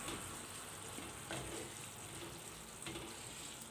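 Mushrooms fry and simmer together with onions in a sauce, giving a soft, continuous sizzle with occasional faint stirring clicks, fairly quiet and without talk.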